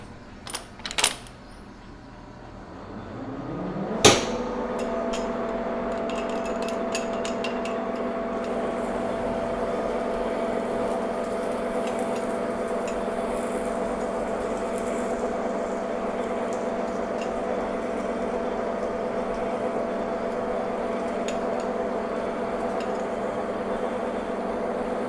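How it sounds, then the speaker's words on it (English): A half-inch drill bores a lubricated pilot hole in a metal part, starting with a few sharp metallic clicks and a rising spin-up, then a steady, even whirring hum that holds for about twenty seconds. "I'm gonna start with a 1/2 inch drill here"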